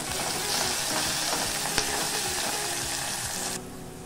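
Tempering of dried chillies, chopped onion, crushed garlic, curry leaves and a pinch of asafoetida sizzles loudly in hot oil for moringa leaf dal, with stirring scrapes, before the frying abruptly drops away.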